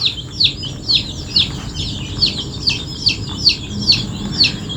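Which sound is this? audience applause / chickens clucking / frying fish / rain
chickens clucking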